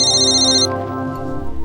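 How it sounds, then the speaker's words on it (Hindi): A mobile phone ringtone rings loudly and alone, a bright electronic tone sounding for a moment before settling into a lower sustained tone. "आपका फ़ोन हमेशा गलत वक्त पे क्यों बजता है?"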